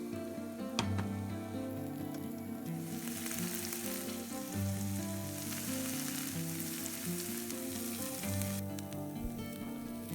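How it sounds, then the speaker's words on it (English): Steady, close sizzling of peppers and onions frying in a hot pan, continuous throughout with occasional crackles and brief scraping as they are stirred. "I'm going to keep frying until everything is nice and soft"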